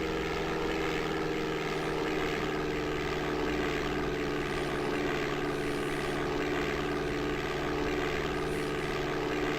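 A light propeller aircraft takes off in the DOS game Flight Simulator 5.1, its simulated engine a steady, droning hum with no change in pitch or loudness, alone without talk.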